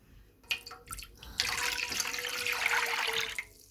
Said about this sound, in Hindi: सबसे पहले हम इसमें पानी डालते हैं।